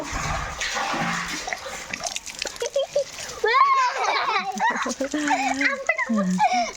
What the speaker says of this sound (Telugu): షాంపూతో స్నానం నీళ్ళు వస్తున్నాయి పైప్లో